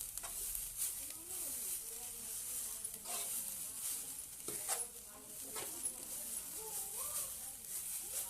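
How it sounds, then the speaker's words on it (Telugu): Beetroot sweet cooking in a pan gives a soft, quiet sizzle with intermittent scraping from stirring, while someone talks over it at intervals. "కాసేపు కలుపుకుంటూ మగ్గించుకోవాలి కాసేపు"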